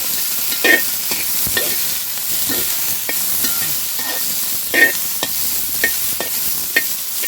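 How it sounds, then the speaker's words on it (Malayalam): Chopped vegetables stir-fried in a pan for a lentil and vegetable dish, a continuous close sizzle broken by repeated scraping stirs and clinks of the spoon against the pan, with no voices. "എല്ലാം വറുത്തെടുക്കാം കേട്ടോ."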